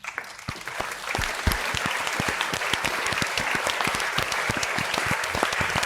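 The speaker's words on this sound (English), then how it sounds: "Give me clap." Applause greets a baseball player's big league debut: steady, dense clapping from a group of people, close and loud, with a few sharper individual claps standing out through the stretch.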